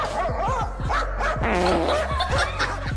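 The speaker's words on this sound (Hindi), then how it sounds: "इस वीडियो में ये कुत्ता बाहर खड़े बंदर पे भौंक रहा था" A dog barks repeatedly at a monkey standing outside, a quick run of loud, close barks and yips that keeps going steadily for the whole stretch.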